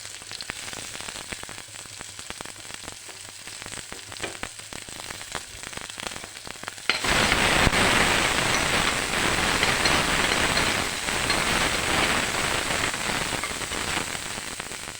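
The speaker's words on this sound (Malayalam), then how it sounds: "ബാക്കിയുള്ള എണ്ണയിലേക്ക് ഉള്ളി ഇടുക." Onions dropped into leftover hot oil, a loud dense sizzle that jumps up halfway and stays steady and close to the end.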